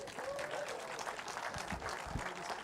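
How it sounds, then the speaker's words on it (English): A crowd of about 1,500 people applauds at a windsurfing Hall of Fame induction ceremony, heard as soft, distant, continuous clapping with a few low thumps mixed in. "It's a big applause to you guys."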